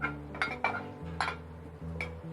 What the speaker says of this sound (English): Put in the strawberries and blueberries first, leaving the raspberries behind because they only take a second